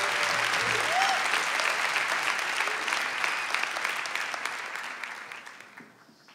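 Concert crowd applauding a saxophonist at a pop album launch concert, loud sustained clapping from a large audience that gradually thins and fades away near the end.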